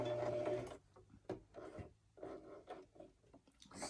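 A sewing machine stitching appliqué, running in short close bursts with pauses between them as the needle is hand turned and back stitched.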